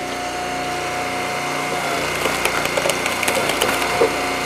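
A hydraulic log splitter's small engine runs steadily, then bogs slightly under load as wood cracks and splinters in a series of sharp snaps toward the end.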